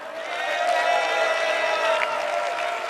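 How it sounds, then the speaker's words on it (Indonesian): Applause and cheering from an audience at an Indonesian candidates' debate fill the clip at a steady level, dense and continuous, with faint tonal murmur of crowd voices mixed in. "saya ajak sekarang semua untuk tepuk tangan, silakan"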